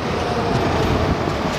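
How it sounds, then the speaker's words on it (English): A CN Rail freight train with DPU locomotives passes at a distance, a steady broadband rumble and roar with no distinct pulses, moderately loud and unbroken. "There's a train down there."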